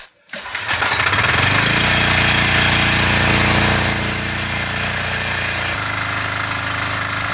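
A homemade log splitter driven by a walk-behind tractor engine runs loudly and steadily, a continuous close mechanical drone that shifts to a lower, slightly quieter tone partway through, with no talking.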